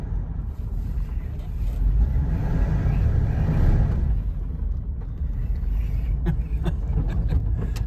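A vintage car with a four-speed column-shift manual rumbles along, its engine a low steady drone mixed with road and wind noise, swelling midway, with a few clicks and knocks near the end.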